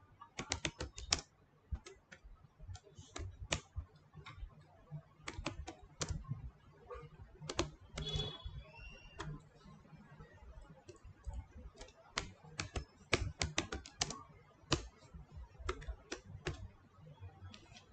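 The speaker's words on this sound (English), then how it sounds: "Here I'm not writing any big logic, so that's why I'm just typing." Fast typing on a computer keyboard during a live Java coding session, with dense irregular bursts of key clicks and brief pauses, fairly quiet and close, without talk.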